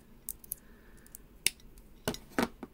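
Scissors snip through strands on costume jewelry, giving a few sharp, close clicks and metallic clinks spaced unevenly across a quiet background.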